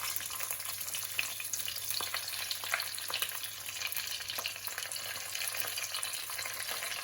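Whole spices and ginger garlic paste frying on high heat in oil, a steady, dense sizzle with crackling pops that holds at an even loudness throughout, with no talking.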